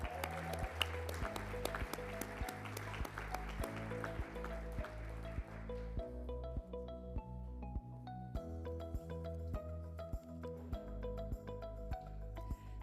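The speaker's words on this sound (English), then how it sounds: "Big round of applause for partner of Bennett, Tuller, Johnson & Deere, Ryan B." A round of applause at a Legal Elite awards event rises under loud, steady walk-on music. The clapping is moderate and blends into the music before fading while the music carries on.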